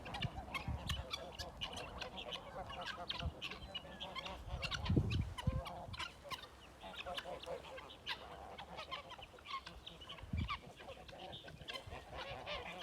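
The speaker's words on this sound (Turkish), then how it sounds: "burada 110 civarında bir kaz var" A flock of about 110 farm geese honking continuously, many overlapping calls at close range, with a few louder bursts standing out from the steady clamor.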